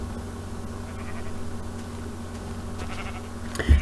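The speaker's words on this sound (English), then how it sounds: "There's even more sheep down there" Minecraft sheep bleat faintly in the distance over a steady low in-game hum, with a louder burst of sound right at the end.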